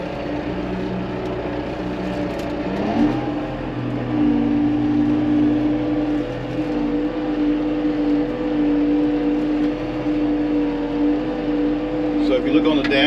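An LS MT473 tractor setting off in drive, its engine droning steadily at close range and climbing to a higher, sustained hum as it pulls away.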